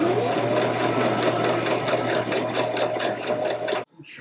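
A sewing machine stitches sleeves in a fast, loud, steady run of rapid needle strokes, then stops abruptly near the end, leaving quiet room tone.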